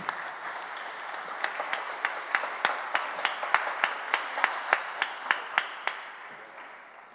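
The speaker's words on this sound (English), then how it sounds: "thank them with a warm round of applause" An audience in a UN conference plenary hall applauds the panelists, a moderate round of clapping with distinct individual claps that swells and then tapers off toward silence.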